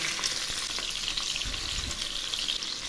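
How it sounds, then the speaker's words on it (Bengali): Puti fish sizzling as they are dropped into hot oil in a pan, a loud close crackle with a few soft thuds and stirring bumps, no talking. "তেল গরম হয়ে গেছে এবার আমি মাছগুলো ছেড়ে দিচ্ছি একে একে সব মাছগুলো ছেড়ে দেবো"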